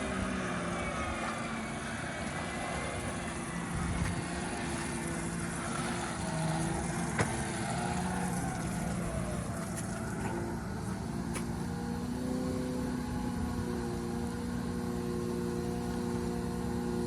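A silver 2010 BMW 535xi, a car with a suspected bad head gasket, rolls in with a steady engine hum and road noise, continuous and moderately near throughout, with no voices.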